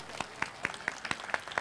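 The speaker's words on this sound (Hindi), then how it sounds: "जब इस डांस पर एक बार हो जाए जोरदार तालियां" Quiet, evenly spaced handclaps at a talent-show semi-final in a shopping mall follow a dance, about four or five crisp claps per second in a steady rhythm, with no voices over them.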